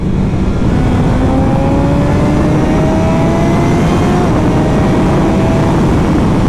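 A 2021 BMW S1000XR sport touring motorcycle engine, ridden with two people aboard, drones loudly and steadily and climbs in pitch as it accelerates, with a constant rush of wind and road noise, no voices.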